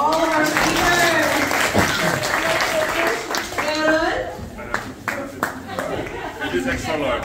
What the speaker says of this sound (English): Ladies and gentlemen, a round of applause for all of our speakers